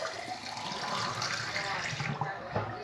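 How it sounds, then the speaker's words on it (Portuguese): Water is poured steadily into a pot for a few seconds, a continuous close splashing pour with no talking. "E vamos colocar um copo d'água."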